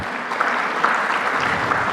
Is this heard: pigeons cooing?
no